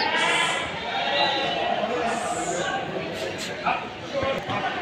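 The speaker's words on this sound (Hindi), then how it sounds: "ये दूसरा बकरा है" Goats at the Deonar goat market in Mumbai bleat amid crowd noise, with a couple of short cries standing out near the end over steady market chatter.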